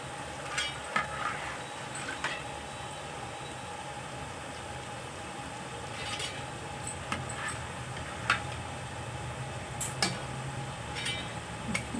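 Janthikalu snacks deep fry in oil with a soft, steady bubbling hiss, dotted with occasional light clicks and taps from a ladle or utensil.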